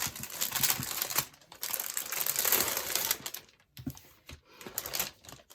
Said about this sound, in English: You get all your accessories and everything put in the back in a plastic bag